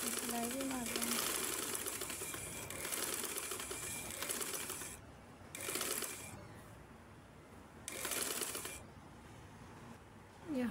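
A sewing machine stitches a frock made from an old shirt in several short whirring bursts, close and moderately loud, with pauses between runs and a voice talking faintly at times.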